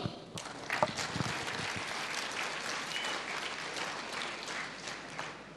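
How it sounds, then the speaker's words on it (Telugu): An audience at a business meeting breaks into applause, with a sustained wash of many hands clapping that starts at once and holds steady to the end. "ఒకసారి వీళ్ళకి క్లాప్స్ ఇద్దాం"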